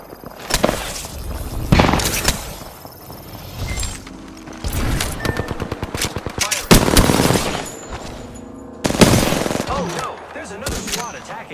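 Bursts of automatic gunfire and shots in a ranked Apex Legends match played as Wattson, loud and close, coming in repeated volleys with short gaps, with some game voice lines mixed in.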